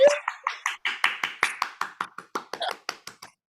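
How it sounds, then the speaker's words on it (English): A single pair of hands clapping about fifteen times in a quick, steady rhythm, close and fairly loud, with nothing else around it, at a Quidditch match. "Hey, please give a big round of applause to Kathy."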